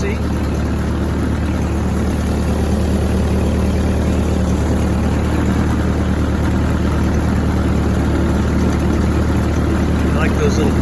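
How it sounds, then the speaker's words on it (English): A Ford 8N tractor engine runs with a steady, loud low rumble and constant idling chug, heard up close from the driver's seat. "Here's your view from the back of a Ford 8N tractor."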